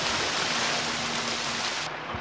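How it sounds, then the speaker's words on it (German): Continuous broadband rushing of a waterfall in the video game Odyssee, steady and fairly faint throughout, with a faint low hum beneath it before the top end cuts off near the end. "Okay, Wasserfall."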